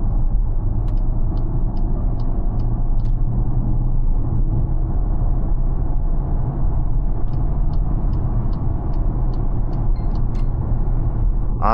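A 2025 Cupra Terramar hybrid SUV with a 204-horsepower setup cruises on its petrol engine alone, a steady low rumble of engine and road noise running continuously from the cabin, with faint ticking sounds above it.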